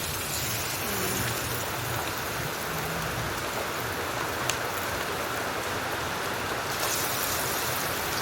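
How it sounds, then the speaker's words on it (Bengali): Fritters frying in a pan of hot oil give a steady, dense hiss like rainfall, constant and fairly close throughout with no voices. "বাকি তেলটা ছিল যেটুকু, সেটার মধ্যে সব বড়াগুলো এক এক করে আমি দিয়ে দেবো।"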